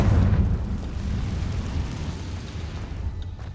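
A Confringo fire spell explosion in the Hogwarts Legacy video game, a loud sustained rumbling blast with heavy low-end roar that stays strong across the whole stretch before easing slightly.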